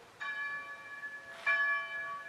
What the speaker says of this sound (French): Donc c'est les cloches en fait